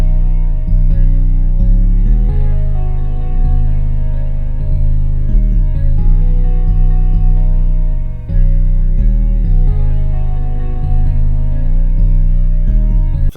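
A loud, sustained guitar melody loop built in FL Studio plays over deep bass, with notes shifting in a steady repeating pattern.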